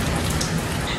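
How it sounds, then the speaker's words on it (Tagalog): Heavy rain pours steadily on a surface outside a home with the windows shut, a dense, constant hiss of drops with no let-up across the whole second and no voices. "Grabe, walang sawa ang ulan."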